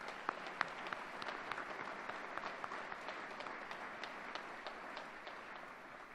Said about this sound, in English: can we please applaud?